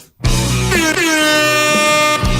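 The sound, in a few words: air horn sound effect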